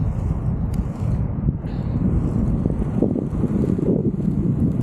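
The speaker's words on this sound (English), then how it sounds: "It's windy." Steady wind buffeting the microphone with a constant low roar, loud and close throughout, with no voices, while rollerblading outdoors.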